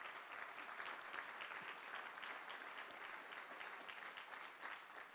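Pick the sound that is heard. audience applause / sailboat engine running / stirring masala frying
audience applause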